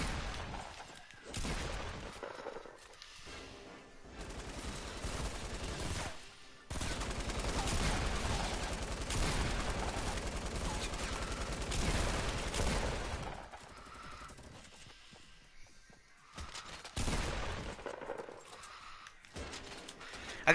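Rapid video game gunfire, including a submachine gun, crackles in dense bursts with short pauses between volleys, loud and close throughout.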